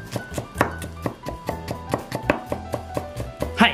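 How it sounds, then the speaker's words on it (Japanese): A knife mincing garlic on a cutting board for a seafood-pork tsukemen ramen, a brisk even run of close, crisp chopping thuds at roughly four per second, with no talk. "ニンニクは半分に切って中の芽を取り除いて、こちらもね、みじん切りにしていきます。"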